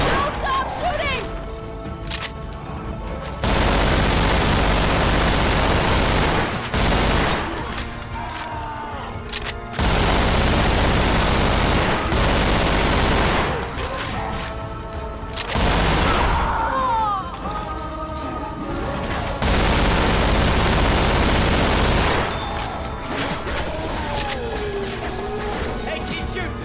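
Chaotic Left 4 Dead 2 gunfire: repeated bursts of loud shots and booms in clustered volleys, mixed with shouting and the clatter of a busy fight, while voices talk over the action.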